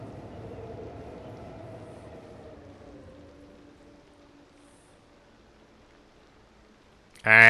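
Busy subway train in Cities: Skylines II rumbling steadily at moderate level, a low rolling rail drone that slowly fades over several seconds before a sudden loud burst at the very end.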